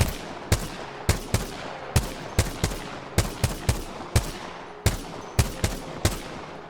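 Rapid bursts of hip-fire gunfire in Apex Legends, played on a controller: sharp repeated shots in quick clusters, loud and close, with no talking over them.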